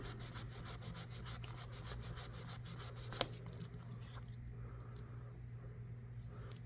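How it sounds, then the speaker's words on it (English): Knife blade being rubbed by hand with rubbing compound during a rusty knife refurbishing, a steady close scrubbing rasp with a regular back-and-forth pulse, one sharp tap partway through, no talking. "on the reverse side, we'll start with the rubbing compound and clean it with the rubbing compound"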